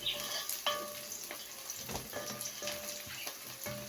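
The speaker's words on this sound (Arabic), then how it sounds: "ما بحمرش البصله بتاعتي قوي، تدي طعم حلو برضو في الاكل" Onions frying lightly in a pan for okra and rice, with a soft, steady sizzle and occasional stirring clinks, fairly quiet and close.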